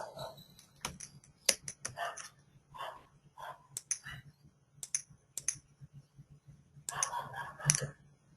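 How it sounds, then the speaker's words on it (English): Keys tapped on a computer keyboard at a desk, a quiet uneven run of light clicks in short bursts with pauses, close and soft, over a faint steady hum. "Type here."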